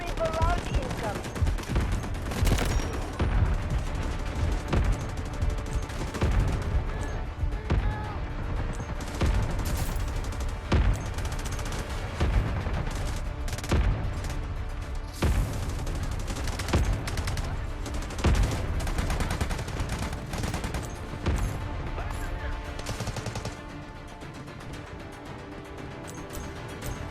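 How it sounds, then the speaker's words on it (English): An artillery barrage mixed with sustained gunfire forms a dense, continuous wall of rapid shots and booms that carries on throughout, easing slightly near the end, with voices talking at points. "Artillery barrage incoming."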